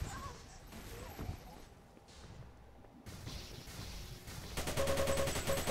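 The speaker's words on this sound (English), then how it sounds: "So yeah, I got the machine gun." Rapid machine gun fire from the video game Xonotic rattles in bursts, growing louder and denser toward the end, with game sounds around it.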